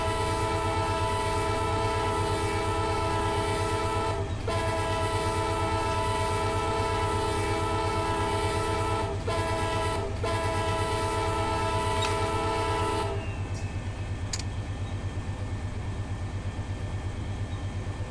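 A freight train rolls along on a BNSF line in Run 8 Train Simulator, with a loud sustained engine drone and a long blaring horn chord that cuts off near the end, leaving a quieter rumble.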